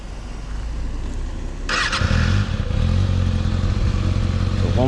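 Motorcycle engine during a beginner riding lesson: a steady low idle swells about two seconds in to a louder, rougher running note that holds close by to the end, with a brief faint squeal near the finish.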